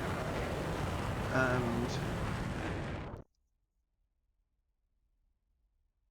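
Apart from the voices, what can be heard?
HIMARS rocket booster motors firing, from video game DCS World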